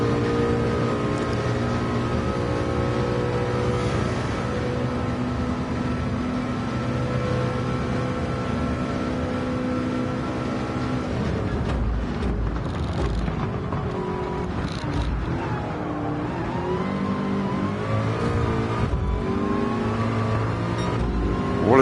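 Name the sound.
racing car engines in a video game (Le Mans, PSVR2)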